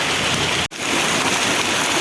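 Heavy monsoon rain pours steadily during a thunderstorm in rural Konkan, Raigad, a dense, loud, continuous wash with one brief cut partway through; no thunderclap stands out.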